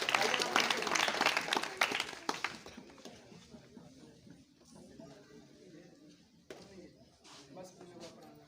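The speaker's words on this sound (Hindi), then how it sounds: "इनके लिए जोरदार तालियां।" A crowd applauds students at a Children's Day school ceremony. Dense clapping rises loud at the start, then thins and fades behind someone speaking, with a brief late burst.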